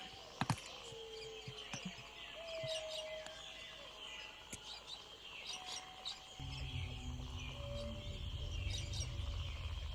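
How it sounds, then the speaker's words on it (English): Outdoor bird ambience of chirps, whistled calls and tweets layered over a steady insect drone, with a few sharp knocks near the start and a low rumble joining partway through, moderately faint and without speech. "Bird noises."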